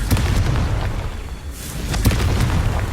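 A fiery explosion spell goes off in the Hogwarts Legacy video game, producing loud booming blasts and bursts layered over a dense rumbling background across a few seconds.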